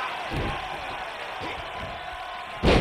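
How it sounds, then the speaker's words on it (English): A roaring arena crowd in the WWE 2K22 video game cheers in the background with thuds of impacts during a triple threat wrestling match, ending in a loud slam near the end; a commentator's voice talks over it. "The sound of this crowd is deafening, and he's asking for more."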